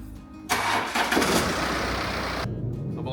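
A car engine cranks and catches in cold winter weather, the starter whirring briefly before the motor fires with a loud surge and settles into a steady idle, then cuts off near the end.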